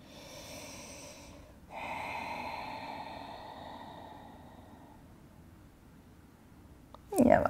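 Breathing during a yoga stretch: a soft, close in-breath followed by one long, audible exhale that slowly fades, with a brief rustle at the very end.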